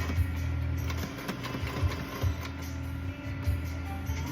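Sewing machine stitching fabric in short whirring runs with a few mechanical thumps between them, near and moderately loud, with no voices.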